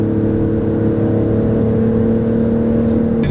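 An Alfa Romeo Stelvio Quadrifoglio SUV engine hums loudly and steadily at close range while accelerating, a sustained mid-pitched drone with a slight rise, no voices.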